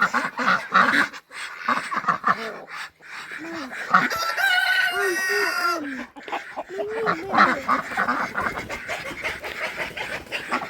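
A rooster crows loudly up close amid repeated clucking and squawking from hens, with other fowl calls mixed in.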